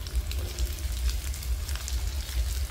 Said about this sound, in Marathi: पूर्ण ते तेलात फ्राय झाले पाहिजेत